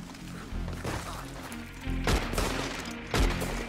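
Gunfire in Red Dead Redemption 2 comes as sharp bursts of shots and impacts over a steady layer of game sound. A few louder cracks stand out among the others.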